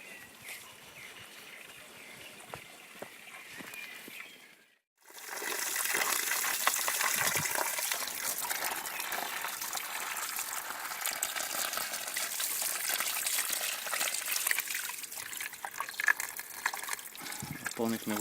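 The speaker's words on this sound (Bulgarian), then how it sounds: "Сега ще слезем до чешмичката да напълним едно шишенце с вода." Water pours from a small roadside drinking fountain into a bottle, first as a softer trickle, then after a brief pause as a loud, steady gushing rush that continues to the end, close to the microphone.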